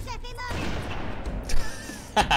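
Sniper rifle shots in the video game Halo 1 crack out in a few sharp booming bursts with echoing tails, mixed with game sound effects and someone speaking.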